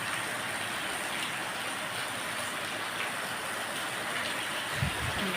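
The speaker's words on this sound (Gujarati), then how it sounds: "જે વરસાદ પણ વધી રહ્યો છે" Rain falls steadily outdoors in a village setting, a constant soft hiss of drops with no speech, fairly faint and even throughout.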